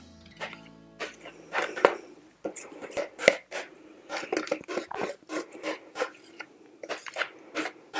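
A bar of castile soap is shredded on a grater in quick rasping strokes, an irregular scraping rhythm close up and fairly quiet.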